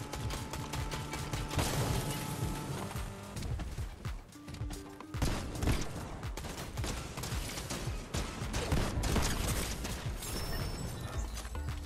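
Video game gunfire from an assault rifle and a Mythic Frenzy shotgun, with rapid, dense bursts of shots and mechanical clatter. The firing rolls on steadily at close range with no talk.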